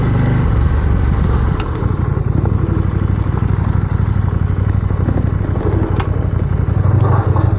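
Motorcycle engines rumble steadily throughout, a loud, continuous low drone of bikes riding on the road, with occasional clattering accents and no voices.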